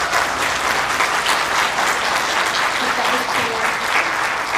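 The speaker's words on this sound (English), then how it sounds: "One more round of applause for Megan." An audience gives steady, dense applause for a presenter at an Idaho state financial officers symposium, clapping continuously and evenly throughout without breaks.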